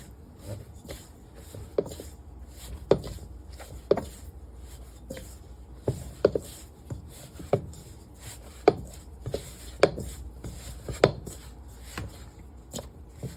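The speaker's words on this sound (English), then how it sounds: "So you just want to knead this until it comes together." Flour dough for naan is kneaded by hand on a work surface: a close series of soft thumps and pats in an irregular rhythm over about thirteen seconds, with no talking.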